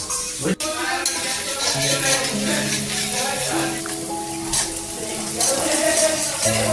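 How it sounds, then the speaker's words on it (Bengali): Onion sautéing in a pan for a meat curry, a steady close sizzle with stirring scrapes, with a sharp knock near the start and tonal background hum throughout. "এখন পেঁয়াজটা কষবো"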